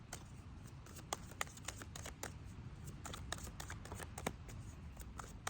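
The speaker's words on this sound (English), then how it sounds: "So I'm gonna shuffle some more." Tarot cards are shuffled in quick, light riffling clicks and rustles that come close and quiet in a steady irregular stream, with no talking.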